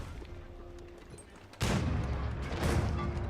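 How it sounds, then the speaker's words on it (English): Cannon fire striking a keep during an Age of Empires 4 battle: a sudden loud boom breaks in partway through, followed by sustained crashing rumble and a second impact, dense and close. "Cannons hit the keep a couple times."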